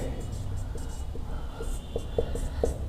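Pen strokes scratch out notes by hand during a complex numbers lesson, soft scattered scribbles over a low room hum, with faint murmured speech in the background.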